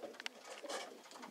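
A racing pigeon coos softly and close, a short run of low murmuring calls with no other sounds.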